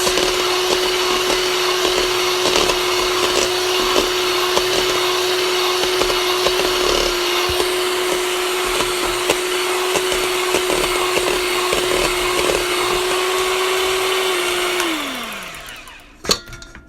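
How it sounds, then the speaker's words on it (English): Electric mixer beating eggs for pineapple upside-down cake batter, a steady loud motor whine held for about fourteen seconds before winding down and stopping, with a faint clink at the end. "Beat your eggs."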